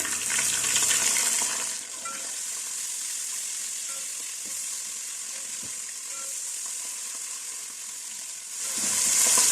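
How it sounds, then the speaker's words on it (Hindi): Steady sizzling of garlic-ginger paste frying in hot oil, loud and continuous with faint stirring scrapes, no voices. "गरम मसाले की ये तमाम चीज़ें अब इसमें डाल देंगे और थोड़ा सा इसको इसमें फ्राई कर लेते हैं।"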